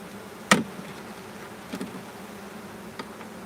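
A faint, steady hum of honey bees around an active hive lingers in the background, broken by a few sharp clicks and knocks.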